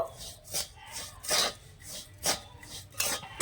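Powdered milk, sugar and a pinch of salt mixed together in a bowl, a series of rhythmic rasping scrapes that come in repeated strokes about once a second, close by, with no speech.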